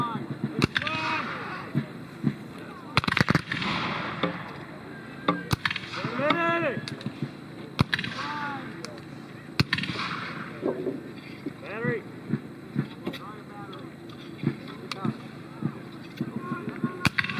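Cannon fire at a Civil War reenactment comes as sharp, loud booming blasts spread irregularly across the clip, with shouted voices and talk in between.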